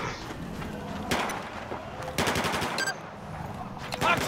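Rapid automatic gunfire in the video game Battlefield 4: sharp bursts and repeated shots crack out at intervals over a busy battlefield background, fairly close and loud.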